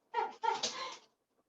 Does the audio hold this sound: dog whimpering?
yes